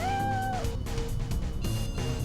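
Socks the cat meows in the video game Time Hollow, a single rising-then-falling meow near the start, followed by game music and ambience.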